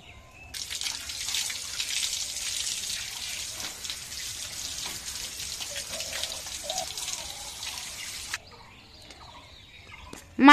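Water runs steadily from a tap as coriander leaves are rinsed at an outdoor washing spot, a continuous broadband splash with small drips, stopping abruptly near the end.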